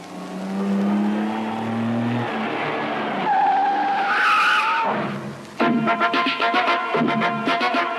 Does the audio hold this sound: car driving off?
yes